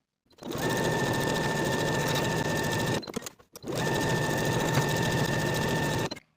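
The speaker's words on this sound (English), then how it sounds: "Now I'm going to top stitch along both long edges for both straps" A sewing machine runs in two long, steady bursts with a brief stop between, top stitching along the long edges of crossbody belt bag straps, loud and close with no talking.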